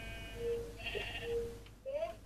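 Video game sheep bleat several times, short thin bleats over a steady background hum with a player talking faintly in between.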